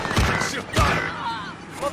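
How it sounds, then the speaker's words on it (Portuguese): Gunfire in the video game Warzone: two sharp, close bursts of shots about half a second apart, each with a thudding low punch and a short decay, with faint game sounds between them. "Eles estão atirando em mim."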